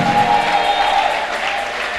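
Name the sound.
applause in a church service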